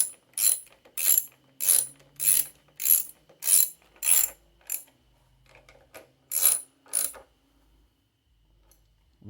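A ratchet evenly tightens bolts on a John Deere LT155 riding lawn mower, giving close, loud bursts of clicking in a steady rhythm of about nine strokes, a pause, then two more strokes.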